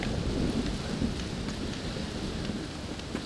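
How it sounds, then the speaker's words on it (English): Thunderstorm with steady heavy rain in the video game Undead Nightmare, a dense continuous downpour with low rolling thunder rumbling throughout, no voices. "Well, it's just the storm, John."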